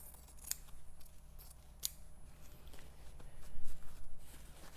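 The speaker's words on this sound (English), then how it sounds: "And I think I'll just cut straight up it." Scissors cut up a strip of fabric, with two crisp snips close to the microphone followed by soft handling and rustling against a quiet low background hum.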